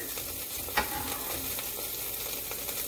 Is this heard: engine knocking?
no